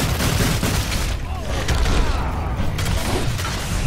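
Sustained gunfire and explosive booms fill a chaotic fight against a stage 3 Goliath in the video game Evolve, dense and loud throughout with voices shouting beneath the combat.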